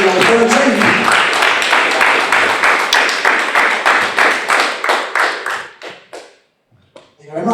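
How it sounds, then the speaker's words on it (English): Applause from a press-conference crowd for a boxer on the fight-night card, a steady dense patter of clapping hands that thins out and stops near the end, leaving a few scattered claps. "Good round of applause to see you on the 13th."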